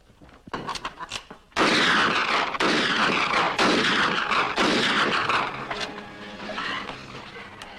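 Loud bursts of gunfire in a radio drama set in Mexico, with several sharp shots at the start and then a long dense volley. The shooting fades into quieter rattling at the end, and no one speaks.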